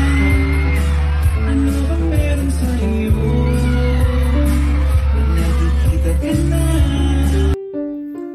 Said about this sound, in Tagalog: Pagpasok pa lang ni Paolo sa stage, grabe na ang hiyawan ng kanilang mga supporters.